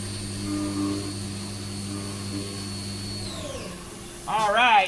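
A CNC mill on a 2-axis tool path, roughing out a Geneva drive wheel at reduced lab speed. Its steady whine holds, then winds down and falls away. A voice comes in at the end.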